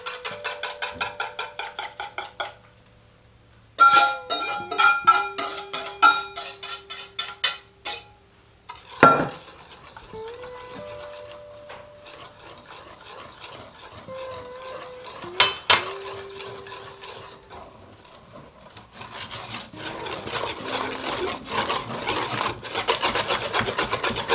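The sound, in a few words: mixing liquid ingredients into dry ingredients for chocolate muffins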